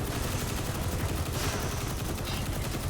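Rapid SMG fire in a video game with poison stacks applied, a continuous dense stream of shots, loud and close, running without a break and with no talking.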